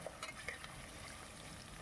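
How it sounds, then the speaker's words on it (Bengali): Soft, steady sizzling of onions frying in a pan for chicken biryani, with a few faint clicks of stirring near the start. "দেখুন খুব সুন্দর করে আমি এটাকে ভেজে নিচ্ছি"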